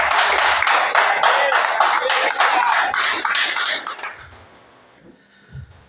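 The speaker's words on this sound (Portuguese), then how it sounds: "salva de palmas" Church congregation applauding together, a dense, steady round of clapping that holds loudly for about four seconds before quickly fading out to quiet.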